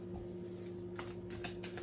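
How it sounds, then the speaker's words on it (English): Tarot cards being shuffled by hand up close, a steady riffling and sliding of card stock over a constant low electrical hum, with no talking. "I'm trying something a little different today by shuffling on camera."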